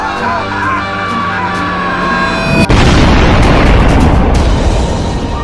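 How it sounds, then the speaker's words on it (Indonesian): A loud sudden boom of a house exploding cuts through a busy mix of sounds, followed by a dense, roaring rumble that keeps going after the blast. "Rumah kamu meledak"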